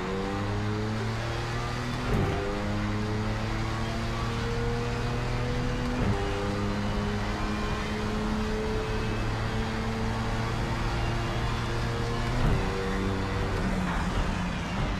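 Audi R18 race car engine in Project CARS 3 at Bathurst, a loud steady synthetic drone holding pitch between a few sharp downshift drops, continuous and close throughout.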